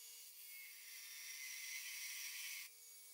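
A parting tool on a wood lathe cuts a tenon groove into a resin strip and wood bowl, giving a steady high-pitched whining hiss that rises in the middle for about two seconds and then drops back.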